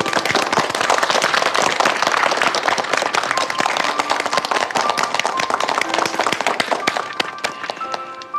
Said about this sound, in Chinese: 让我们给他鼓掌。